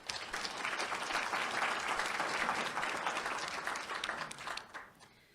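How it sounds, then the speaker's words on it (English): Audience at a local history lecture applauds, a dense wash of clapping that holds steady for several seconds, then thins and fades out near the end. "Can we please give them a round of applause?"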